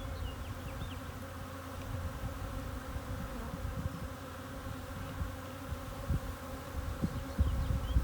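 A honeybee swarm being settled into a hive box hums in a steady, dense drone, close and continuous, with a few louder individual bees passing near the end.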